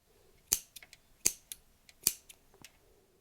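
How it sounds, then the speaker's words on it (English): Scissors snipping yarn bobbins off intarsia knitting, about three crisp, close metallic snips, each followed by smaller clicks of the blades, in a quiet room. "Now we'll go ahead and snip off all these bobbins"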